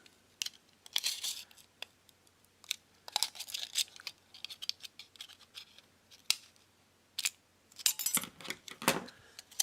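Scissors snip into folded material in a run of short, crisp cuts with pauses between bursts, close and quiet, with no speech.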